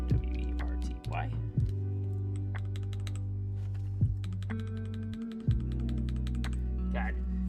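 Keys clack on a gasket-mount acrylic mechanical keyboard, the P3D Executive Minivan build, in quick irregular bursts of crisp poppy strokes, close up, with a voice talking over much of the typing.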